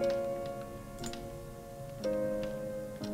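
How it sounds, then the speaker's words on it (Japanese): A clock ticking in the puzzle video game Stray Cat Doors, a quiet, steady tick-tock under soft, sustained background music. "時計の音がする。"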